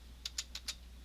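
Four quick, crisp keystrokes tap on a computer keyboard in a quiet room, evenly spaced and close up, over a low steady hum.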